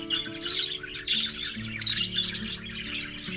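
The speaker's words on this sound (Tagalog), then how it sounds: "Tapos dito may mga ibon. May ibon dyan sa loob." Birds chirp and tweet in quick, bright bursts inside a hall at a hidden campsite, with several overlapping calls and a few squawks at close range.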